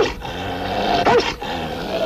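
A dog in a Bulgarian radio drama gives a short, close, loud, throaty growl that rises into a snarl for about two seconds over a dense background.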